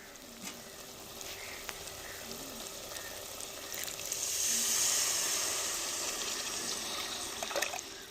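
Tamarind and masala kuzhambu gravy for a kalava fish curry bubbles in the pot, making a soft, continuous hissing simmer that swells slightly midway and stays fairly faint throughout.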